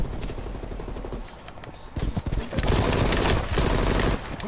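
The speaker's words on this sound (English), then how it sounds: "he's shooting" Rapid automatic gunfire rattles in Call of Duty Black Ops Cold War, with dense bursts of shots and a brief lull before heavier firing resumes.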